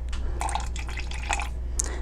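Rosemary floral water poured in a thin stream while mixing a homemade face toner, close, soft liquid splashes and drips in several short bursts over a low steady hum.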